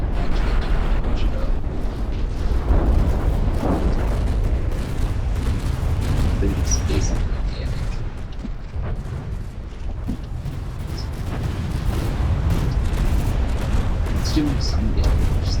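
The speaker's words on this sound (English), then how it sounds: "There's just a constant red stream of anti-air fire." Heavy anti-air fire in a video game about an anti-air ship: a loud, constant rumbling barrage of booms and bursts that dips briefly midway, then swells again.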